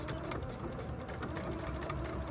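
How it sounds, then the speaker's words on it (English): A sewing machine stitches around the small pocket of a messenger bag, a rapid, steady mechanical whirring with quick repeated needle taps, close and continuous. "for the small pocket, we are going to sew around"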